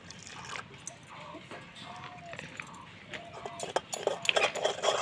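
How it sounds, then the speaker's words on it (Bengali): A spoon stirs a small bowl of baby food powder mixed with a little water, giving faint, light scraping clinks that grow busier and louder toward the end against quiet room tone. "অল্প জল দিয়ে গুলিয়ে নেব।"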